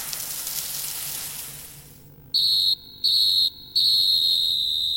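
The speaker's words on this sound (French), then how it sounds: "Le coup de sifflet final?" A referee's final whistle at a match sounds in three shrill blasts, the first two short and the last held, loud and clear after a fading hiss of background noise.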